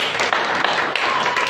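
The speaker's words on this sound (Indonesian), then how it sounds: "Kita beri tepuk tangan ya Allah. Tepuk tangannya sungguh-sungguh lah." Church congregation clapping during a sermon by Pastor Marlin Hutajulu, a dense run of close hand claps with sharper individual slaps, continuous for under two seconds.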